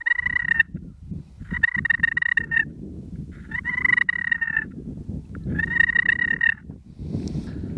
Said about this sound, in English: For a purr, all you gotta do is take that tip and drag it.